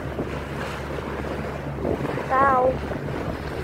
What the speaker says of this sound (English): Water splashing all over.